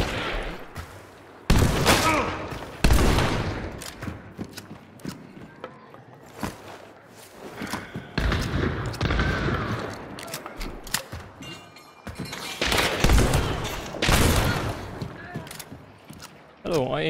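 Video game gunshots ring out in sharp, loud bursts scattered irregularly across the stretch, mixed with mechanical clicks and movement sounds, while a person talks over much of it.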